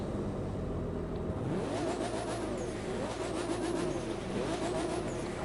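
A Nissan Skyline R34 is driven in the racing game The Crew 2: a steady, loud engine drone holds throughout, with repeated rising revs as it shifts through the gears.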